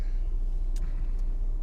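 A car idles through the night in an ice storm at 18 degrees, a steady, close, low engine hum broken by two faint brief ticks.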